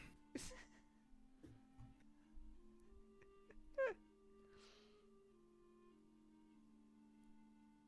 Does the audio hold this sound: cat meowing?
yes